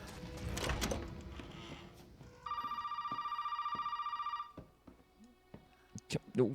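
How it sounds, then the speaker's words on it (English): Telephone ringing in the video game Resident Evil 7, a steady warbling electronic ring lasting about two seconds mid-clip, preceded by muffled low rumbling and followed by scattered thumps and clicks. "Pick up the phone, damn."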